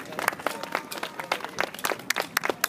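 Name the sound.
applause for kid kart racers at awards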